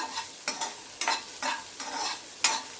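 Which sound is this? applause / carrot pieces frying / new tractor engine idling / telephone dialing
carrot pieces frying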